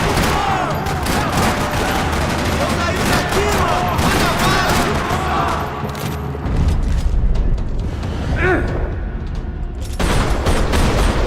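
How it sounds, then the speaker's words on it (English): Heavy gunfire erupts in a parking lot in the video game Max Payne, rapid overlapping shots and booming blasts in loud dense volleys, with a short lull before the firing resumes. "Another parking lot rattling with gunfire."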